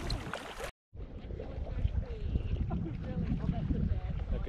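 Kayak paddling on Lake Rotoiti near Rotorua, New Zealand, with steady water splashes and wind noise on the microphone after a brief dropout at the start, voices faintly in the background.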